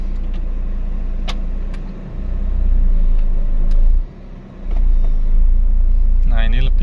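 A Honda Jazz with a CVT, shifted into Drive, idles nearby as a steady low engine rumble that dips briefly twice, with faint voice-like sounds in the background.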